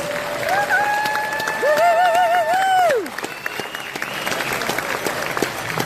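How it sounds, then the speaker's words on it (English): An audience at a Flag Day celebration claps warmly, with a few high whoops and whistles rising over the applause early on before the clapping carries on alone. "So please give them a big round of applause."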